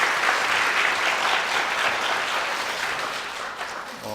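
Audience applause at a university presidential candidates' public debate in a hall, with dense, sustained clapping from a large crowd throughout that fades slightly toward the end.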